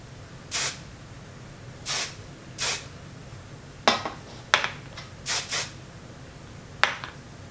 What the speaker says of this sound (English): I'll apply just a bit of hairspray to hold it in place.